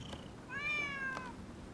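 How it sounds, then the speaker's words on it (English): A stray cat in the game Rise of the Ronin lets out a single short, clear meow, close and alone over a quiet background. "Who'd have thought a stray cat would wander in?"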